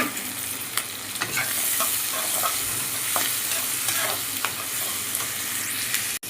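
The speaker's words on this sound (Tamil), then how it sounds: "இது கொஞ்சம் வதக்கினதுக்கப்புறமா பூண்டு போட்டுக்கலாம்." Onions sauté and sizzle in a frying pan with a steady hiss, while a spoon stirs them in light repeated scrapes and taps. Nobody speaks.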